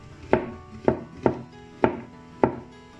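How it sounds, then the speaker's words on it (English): Knife slicing through mushroom on a chopping board, five crisp evenly spaced cuts with a sharp thud on the board, close and clear with no talk, during a one-pot pasta cooking class. "So you just put it on your chopping board. It's much easier for you to slice."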